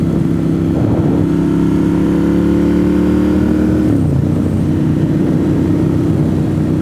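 A motorcycle rides along a rural country road, its engine droning loud and steady, with pitch dropping as it eases off partway through; no voices.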